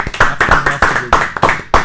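Sharp hand claps struck one after another in an irregular run of about eight, loud and close, with no talking over them.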